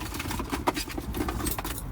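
Car keys jangling inside a car stopped by a motorway, light metallic clinks scattered through the clip over a steady idling engine hum, close and fairly quiet.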